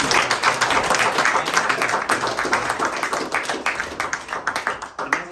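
An audience at a high school athletes camp claps together, with dense, steady hand claps that fill the room and then thin out toward the end.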